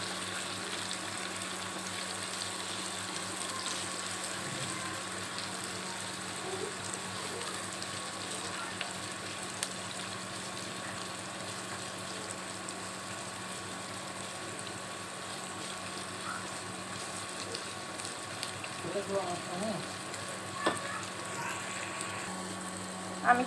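Chopped onions and green chillies fry steadily in a pan, giving a continuous even sizzle with faint stirring scrapes, close by and without talk.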